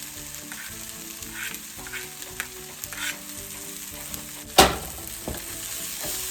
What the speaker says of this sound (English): we'll add our garlic, give it a stir